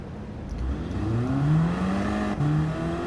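An Audi TTS Coupe in a racing video game pulls away from a standstill, its engine note climbing steadily in pitch through a smooth, continuous run of revs, loud and close with no talking.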